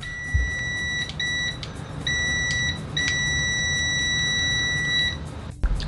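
An INGCO DM7502 multimeter sounds its continuity beeper at maximum volume: a shrill steady tone broken into several on-off bursts, close and loud over a faint low hum, ending with a soft click.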